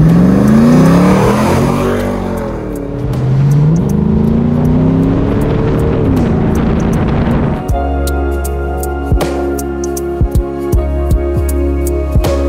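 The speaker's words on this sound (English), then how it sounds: "This D90 is powered by a L92 GM V8 engine with 6-speed automatic transmission." A restored 1965 Land Rover Defender 90 soft top with a GM L92 V8 and six-speed automatic revs loudly, its pitch rising and falling, then settles into a steady idle with scattered clicks and knocks.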